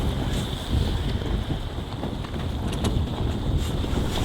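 Sailboat under way in strong wind off the southwest coast of New Zealand's South Island, with steady loud wind roar buffeting the microphone over rushing water and waves throughout.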